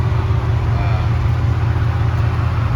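A Chevrolet Camaro's LS3/L99 V8, suffering lifter problems and a knock, runs steadily with a deep, loud, constant drone and no pauses.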